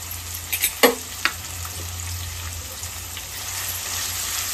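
Onion sautéing in hot oil, a steady close sizzle with a few sharp scraping stirs near the start, then continuous frying.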